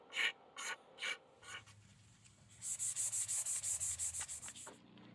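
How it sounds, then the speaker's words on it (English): Fine-grit sanding on a Stingray guitar body: several short scuffing strokes, then a faster run of quick, bright rubbing passes, close and fairly quiet. "I'm going to scuff this with like a real fine grit"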